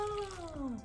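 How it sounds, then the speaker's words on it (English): Hot water is poured over dried soy curls in a brief, close splashing pour with a faint gliding tone as the container fills. "we are just gonna pour the hot water onto said soy curls"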